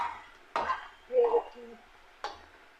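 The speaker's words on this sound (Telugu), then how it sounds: "మొత్తానికైతే పకోడా అయితే కాగుతుందంటారా వేగుతుందంటారా?" Pakoda frying in oil in a home kitchen gives a quiet, steady sizzle, broken by a few sharp clinks of a utensil against the pan and a short stirring scrape.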